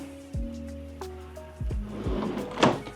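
Beverage drawer in the kitchen of a 2024 East to West Alta 3100KXT RV sliding open or shut, with a few low thumps and clunks and a brief scraping rustle near the end, close and fairly quiet.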